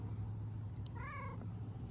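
A house cat gives a single short, rising meow against a low steady background hum, fairly faint and alone with no talking.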